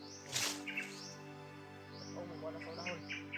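Crows call in short, scattered bursts, faint and somewhat distant, over a steady low background hum, with a few quick chirps between the calls.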